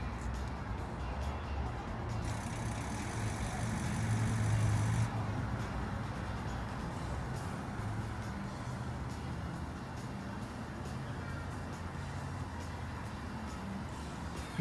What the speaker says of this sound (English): Remote start the car.